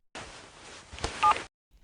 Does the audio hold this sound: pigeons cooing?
no